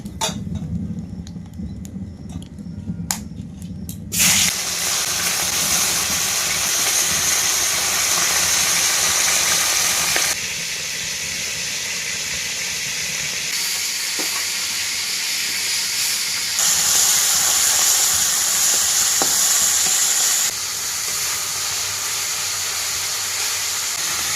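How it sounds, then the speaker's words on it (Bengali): Fish drop into hot oil in a wok, starting quiet, then breaking into a loud, steady sizzling hiss that continues with slight shifts in level, close by and with no talking. "তেল বন্ধুরা গরম হয়ে গেছে, মাছগুলো দিয়ে দেবো।"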